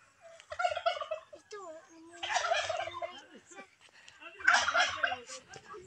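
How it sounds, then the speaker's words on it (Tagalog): Several bursts of turkeys gobbling at a Saturday fiesta, rapid warbling calls rising and falling, fairly close, with quiet gaps between the bursts. "Na sila yung mga pabo."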